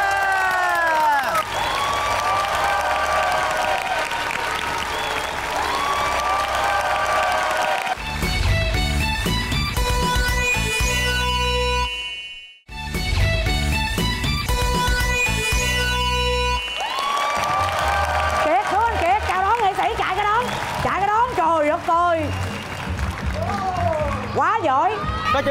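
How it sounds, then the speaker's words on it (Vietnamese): A crowd of locals cheers, whoops and claps in lively waves, with shouting voices, excited chatter and talk running throughout. "Vỗ tay bà con ơi."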